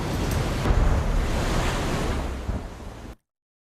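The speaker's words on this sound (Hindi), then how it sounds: "अभी भी बारिश हो रही है, अभी भी वहां पर तेज हवाएं चल रही हैं" Heavy wind and rain from Cyclone Yaas hit a microphone in a dense, roaring wash with gusty buffeting. The sound holds steady for about three seconds, then cuts off abruptly.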